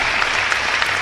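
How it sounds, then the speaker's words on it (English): A crowd at a shotgun sports national championship celebration applauds an injured team member, a dense, even wash of clapping that stays loud and steady throughout, with no talk over it. "Let's give him a round of applause."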